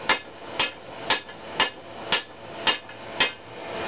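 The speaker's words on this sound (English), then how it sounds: "Just by hammering it." A hammer strikes hot steel while forging a survival froe: seven loud, close, evenly spaced ringing blows with no talking.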